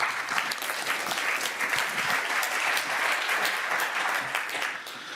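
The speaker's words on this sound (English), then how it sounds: "and you can give them an applause." An audience applauds at the Battery Pass closing event on collaboration and standardisation, a dense, steady wash of many hands that holds for several seconds and eases slightly at the end.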